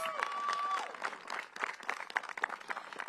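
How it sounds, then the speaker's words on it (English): Scattered applause from a modest audience at a DC mayoral budget update, fairly faint and uneven, with a brief tone near the start before the clapping thins out. "Give DDOT a big round of applause."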